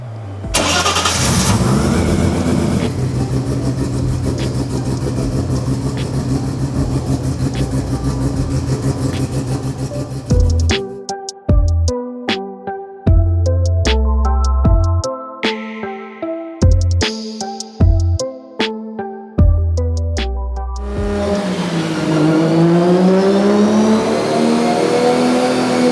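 Nissan R32 GT-R racing car: the starter cranks, the engine catches and idles roughly, then a series of sharp, loud revs rise and fall before it settles back to idle.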